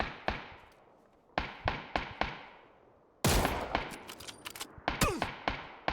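Gunfire in a shooting video game: sharp single shots and short bursts with clipped echoing tails, one heavier volley in the middle, loud and close, with no talk.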